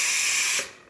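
A Breville espresso machine's steam wand hisses loudly and steadily after a boiler service, then cuts off abruptly near the end, leaving a soft fading tail.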